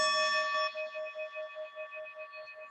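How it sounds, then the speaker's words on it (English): A chime struck during a church service rings out clear and close, its bright tone decaying with a gentle pulsing shimmer, a single sustained strike in a quiet room. "we will ring our chime 3 times."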